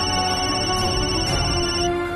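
Phone ringing with an unanswered call, a steady electronic ringtone sounding continuously over a dense background of music-like tones, moderately loud.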